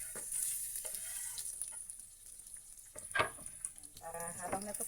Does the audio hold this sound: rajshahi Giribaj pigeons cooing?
no